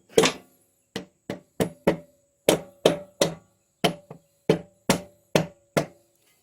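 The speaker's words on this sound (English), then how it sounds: "I'm going to tap it with a rubber hammer, see what we can do" A rubber hammer taps on a metal part of a Honda 300 Fourtrax ATV engine about a dozen times, sharp separate knocks in an uneven rhythm with short pauses between, close and clear.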